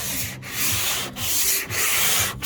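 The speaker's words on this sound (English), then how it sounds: "We've got some 120 grit sandpaper, and with the block we're going to go in crosshatch patterns" Steady abrasive sanding of van bodywork with 120-grit sandpaper on a block in crosshatch patterns, long rasping back-and-forth strokes with brief pauses between passes, close and fairly loud.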